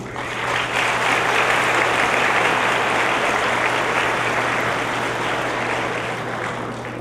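Sustained applause from an audience at an academic ceremony greeting a course coordinator, a broad steady roar of clapping that swells in and holds for several seconds over a low constant hum.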